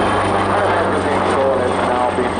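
A helicopter flies past at the RIAT 2023 airshow, its engine and rotors giving a steady, loud, broadband roar with a low throbbing hum that holds throughout while a commentator speaks over it.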